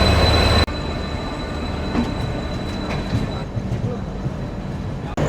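A train bound for Puri, running after leaving Shalimar, heard from on board as a steady loud rumble and rattle of the carriage with occasional faint wheel squeals.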